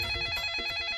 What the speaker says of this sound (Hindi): ये फोन बजा, फोन फोन ले